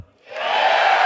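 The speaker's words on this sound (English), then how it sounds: "If you're gonna applause after every sentence, I'm gonna be up here for a while." A crowd at the Destiny 2 gameplay premiere livestream swells into a loud roar of cheering and whooping after a brief quiet start.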